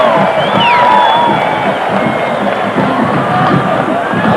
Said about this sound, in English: the Red Raiders hold, and listen to this Jones Stadium crowd